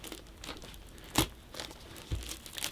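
A knife cutting into the foam packing of a lightsaber box, giving faint rustles and a few sharp tearing, crunching snaps, mostly quiet between bursts.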